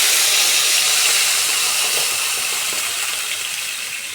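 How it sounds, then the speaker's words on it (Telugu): Water is poured into a hot pan of ghee-fried cumin for carrot halwa, setting off a loud, close, continuous hiss of steam that slowly fades over a few seconds. "దీంట్లో కొంచెం వాటర్ వేసేయాలి"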